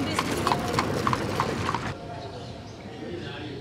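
Horse hooves clip-clop in an even trotting rhythm on a street in Ipoh, Malaysia, fairly close, under a wash of background noise, then fade out abruptly partway through.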